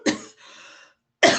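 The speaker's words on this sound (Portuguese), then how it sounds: "a tosse é do nervoso aqui e da fala" A woman coughs sharply twice, with a short breathy rasp between the coughs, close and loud, in an indoor setting.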